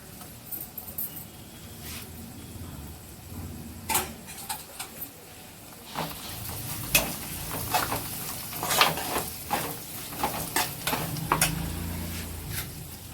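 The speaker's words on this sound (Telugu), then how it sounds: "బాగా వేగిందండి ఇప్పుడు అల్లం వెల్లుల్లి పేస్ట్ వేద్దాం" Onions and ginger garlic paste fry for a prawn curry with a low sizzle, joined by irregular stirring scrapes that grow busier midway, while a pigeon coos faintly in the background.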